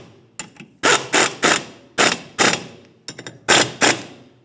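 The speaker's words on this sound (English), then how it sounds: "drive the bolts in, press up against the hub surface, and that will actually pull the drum off" Bolts on a 2012-2020 Ford Focus rear brake drum are driven in with a ratchet to press against the hub and pull the drum free: close, loud bursts of rapid mechanical ratcheting in about eight short spurts with brief pauses, no talk.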